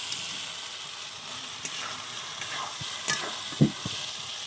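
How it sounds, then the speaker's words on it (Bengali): Chopped tomato, cashews and melon seeds are stir-fried in oil, giving a soft continuous sizzle with a few spoon scrapes and taps against the pan. The sound is close and moderately quiet, with no voices. "দেখো কতটা সুন্দরভাবে কষাচ্ছি"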